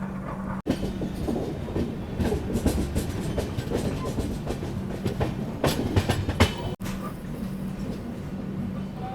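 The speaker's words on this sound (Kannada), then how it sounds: "ಇಲ್ಲೇ ಬರುತ್ತೆ ನಮ್ದು ಸಿಕಂದ್ರಾಬಾದಿಂದ ವಿಶಾಖಪಟ್ಟಣಮ್ಗೆ ಹೋಗುವಂಥ ಒಂದೇ ಭಾರತ್ ಎಕ್ಸ್ಪ್ರೆಸ್" A Vande Bharat Express running from Secunderabad to Visakhapatnam on the line near Warangal, Telangana: a loud, continuous rumble with rhythmic clickety-clack of wheels over rail joints, close by for several seconds.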